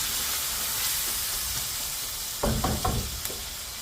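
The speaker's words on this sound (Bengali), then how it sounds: "দেখি আমার পেঁয়াজটা এখন কষে দিতে কিনা" Onions sautéing in a pan for a chicken roast dish, with a steady sizzle and hiss throughout, then a short burst of louder stirring scrapes near the end.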